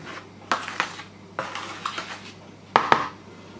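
A dry spoon stirs flour and salt together in a bowl, scraping and clinking against the side in a few separate bursts with a sharp double knock near the end, close and fairly quiet.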